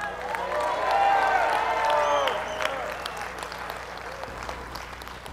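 A church congregation claps together, loud in the first three seconds and then thinning out, with musical or vocal tones ringing over the applause.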